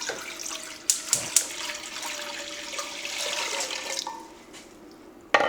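A steady stream of water, 4 cups, pours and splashes into a nearby pot, with a few clinks against metal along the way.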